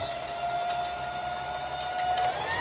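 A Singer Classic sewing machine runs with a steady, close mechanical whir and a thin whine. Faint ticking can be heard throughout the short run.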